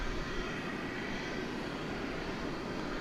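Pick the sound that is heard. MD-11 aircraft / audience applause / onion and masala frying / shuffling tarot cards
MD-11 aircraft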